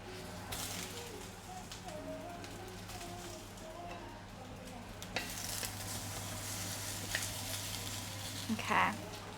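Diced tomatoes hitting a hot pan for Cinco de Mayo tacos, a steady close sizzle with stirring scrapes and a louder clatter near the end, over a constant low hum.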